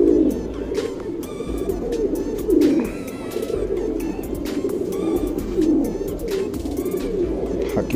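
Racing pigeons coo continuously and close by in soft, rolling, overlapping calls, with faint chirps and background chatter from the flock.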